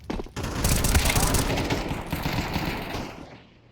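Rapid automatic gunfire in a tactical shooter match on the Mirage map, a dense burst of close, loud shots that fades out over a few seconds.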